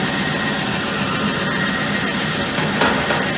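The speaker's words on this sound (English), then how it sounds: "So now we are grinding on a little bit of a lower speed." A Gecam 131 box seam grinding machine runs at a lower speed, giving a steady, dense whirring grind that stays constant throughout with no speech.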